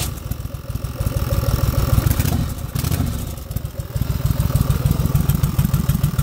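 A Yamaha Virago XV1100 motorcycle engine runs loud and close with a throbbing, steady idle that swells and dips briefly in the middle before settling back to a strong, even rumble.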